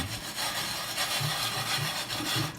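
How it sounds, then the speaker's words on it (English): A chainmail scrubber works burned-on residue off a cast iron pan in close, steady back-and-forth rasping strokes with a gritty metallic scrape and low rhythmic thumps, no voices. "through the chainmail scrubber, you can feel it when it grabs a hold of the burned on stuff."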